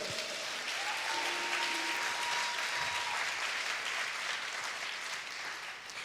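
A church congregation applauds, with steady, dense clapping that sounds a bit distant and holds for several seconds before tapering slightly.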